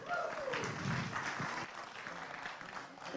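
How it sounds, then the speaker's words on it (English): An audience at an IndiaFest event in Milwaukee claps for a young speaker, a moderately loud, fairly even spatter of hands, with faint voices and a brief whistle-like tone at the start. "Give a round of applause"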